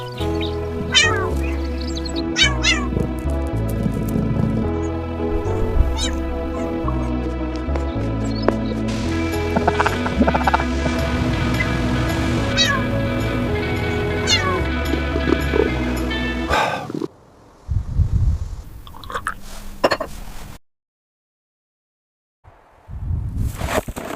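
A rescued mother cat and her kittens meow over and over, loud close cries in a tonal, wavering series that runs for most of the stretch, then breaks into brief sparse sounds and near silence.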